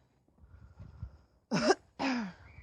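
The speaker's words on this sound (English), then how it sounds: "Excuse me, coughing." A person coughs twice in quick succession, close and fairly loud, following a stretch of quiet rustling in a vegetable garden during a harvest.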